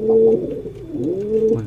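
Pigeons in a home loft coo in soft, repeated throaty phrases, a steady low warble rising and falling across the stretch with no talking.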